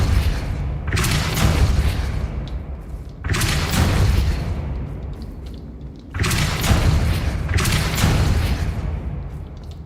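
Depulso force spells cast in the Hogwarts Legacy video game land as three loud, heavy booms spaced a few seconds apart, each a sharp impact that breaks into a long rumbling roar.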